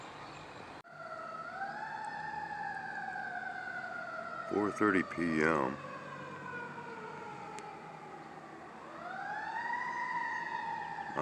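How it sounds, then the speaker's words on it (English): An emergency siren wails in long rising and falling sweeps from a moderate distance, with a brief burst of warbling yelps partway through; a voice speaks briefly. "It's just one siren out of many within the last few minutes."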